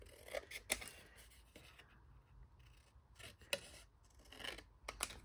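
Scissors snip paper pieces for a Christmas card-making project, with crisp close cuts in uneven bursts separated by quiet pauses and faint rustling.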